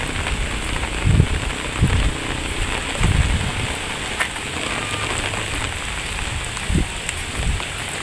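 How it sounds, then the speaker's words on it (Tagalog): Rain falls steadily on a surface, a moderate pattering hiss with a few soft low thumps scattered through it. "naghinay ng ulan guys"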